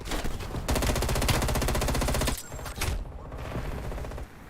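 Loud, rapid automatic gunfire in a video game, a dense burst of shots lasting over two seconds, then a short follow-up burst and a fading tail.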